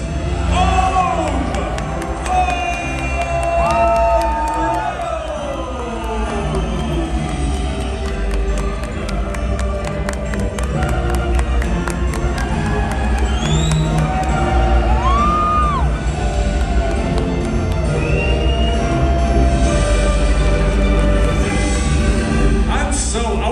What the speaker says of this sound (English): Band together, my friends, raise a final cheer for